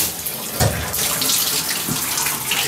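Hotel shower with strong water pressure at a TownePlace Suites in Seattle South/Renton, running as a steady, close, broadband hiss of water with no talk over it.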